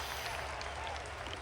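Brief, steady patter of crowd clapping from a flight simulator game's sound effects, continuous and moderately loud for a moment.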